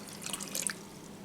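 Water poured into a pan with sugar and corn syrup for homemade marshmallows, a light, faint trickle with a few bright splashy drips over about a second.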